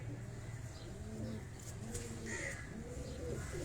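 Pigeons coo from a Karachi rooftop, with low, soft calls repeating over a steady background hum, close by and with no talk.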